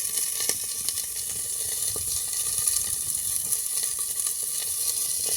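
Green chillies fry in a hot pan with a steady bright sizzle and scattered crackling pops, loud and close with no talking.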